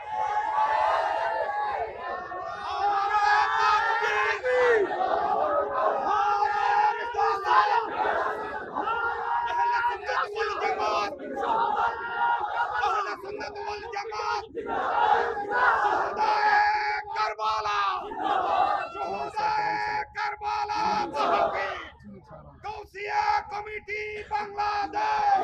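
A large crowd at an outdoor Bangla religious gathering chants slogans in unison with raised hands, loud rhythmic call-and-response bursts repeating throughout, sometimes rising and dipping, with a lead voice carrying over the massed shouting.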